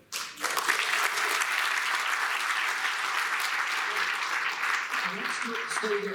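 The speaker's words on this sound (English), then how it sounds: "And as you all clap, bring Mark back up here" Audience applause at a conference event starts quickly and holds loud and steady throughout, with a few voices faintly audible beneath it.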